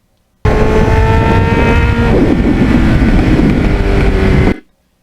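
A 1989 Kawasaki Ninja 750R rides along back roads, its engine loud and close, revving with shifting pitch for about four seconds before cutting off abruptly.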